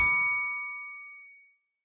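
A single synthesized MIDI bell note rings out clearly on its own, struck once and then decaying smoothly over under two seconds into silence.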